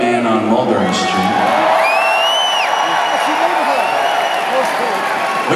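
Concert audience at a show at Madison Square Garden, New York, clapping, cheering and whooping in a steady, dense roar across a large arena, with scattered shouts rising above it.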